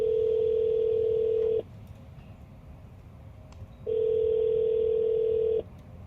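Telephone tone in the detective video game Shadows of Doubt: two loud, steady pure tones each lasting about 1.7 seconds, separated by a two-second gap, over a low background hum.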